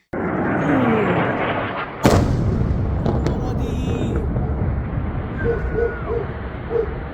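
New Year fireworks: deep booming blasts and crackling explosions rumble continuously at a distance, with one sharp loud bang, a dog barking and faint voices mixed in.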